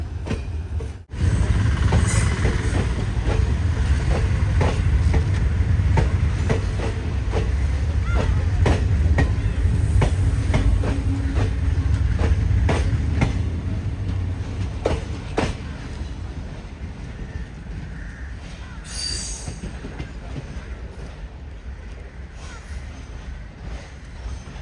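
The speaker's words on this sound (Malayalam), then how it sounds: "ലൂപ്പ് ലൈനിന്ന് നേരെ മെയിൻ ലൈനിലേക്ക് കയറി." The Malabar Express moves from the loop line onto the main line, a loud rumbling train with rhythmic clicks of wheels over rail joints that eases off toward the end. Faint talk sits under the noise.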